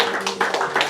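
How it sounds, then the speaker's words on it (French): A church congregation claps in praise, dense overlapping hand claps in a steady rhythm with faint voices mixed in, close and moderately loud. "On applaudit le Seigneur."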